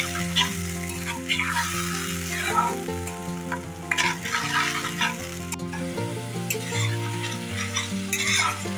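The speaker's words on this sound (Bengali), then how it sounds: "এবার এই পেঁয়াজটা একটু ভালো করে ভেজে নেব" Onion paste frying in a pan for a Bengali doi rui (rohu fish in yogurt) dish, a steady close sizzle with scraping stir strokes and occasional spatula clinks, continuous throughout with no talking.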